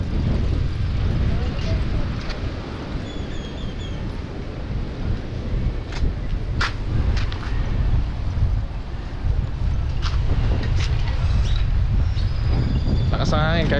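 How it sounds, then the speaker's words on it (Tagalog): Strong wind blowing steadily, a constant low rumbling rush on the microphone with scattered knocks and clicks, while a voice talks over it. "Lakas ang hangin kahit paano presko."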